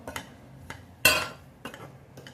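Scone dough being mixed with a spoon in a bowl, giving a few soft scrapes and clinks of spoon against the bowl, with one louder stir-and-clatter burst near the middle, close and fairly quiet.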